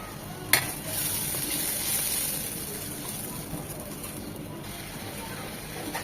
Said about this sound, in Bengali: এখন ভালোভাবে মশলাটা কষিয়ে নেব।